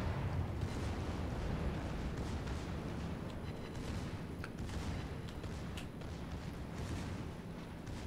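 Heavy naval gunfire in World of Warships, a dense continuous rumble of booming cannon blasts and explosions rolling on loud and sustained with no talk.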